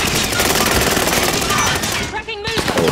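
Dense rapid gunfire rattles continuously in a Call of Duty Resurgence match, with bursts blending into a constant loud barrage and a voice speaking briefly near the end.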